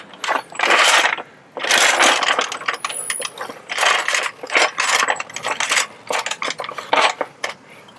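Jack and axle stands lift a Land Rover Discovery 3, giving loud, close metallic ratcheting clicks and clanks in irregular bursts over several seconds.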